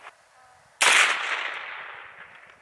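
A single sharp, loud gunshot rings out from a 5-inch barrel revolver firing .22LR CCI Stinger ammunition beside a ballistic chronograph, and its echo trails off over about two seconds.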